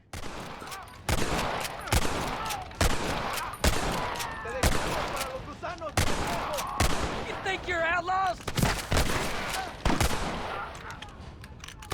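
Gunfire in the Red Dead Redemption video game rings out in a string of loud, sharp shots, some in quick bursts and others spaced apart. Brief voices and game sounds fill the gaps between them.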